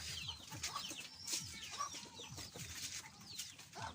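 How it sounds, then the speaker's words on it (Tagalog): Pigeons call and flutter nearby in a continuous busy chorus of overlapping coos and chirps, with no talking. "ito na nga pala yung mga kalapati natin"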